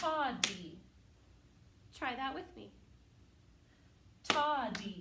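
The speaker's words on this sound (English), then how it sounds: "we clap two times and we say" A teacher claps twice in quick succession for a tied eighth-note pair, the sharp claps landing near a spoken syllable pattern and repeated a second time later, with talking throughout in a quiet room.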